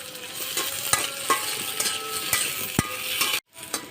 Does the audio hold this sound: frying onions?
yes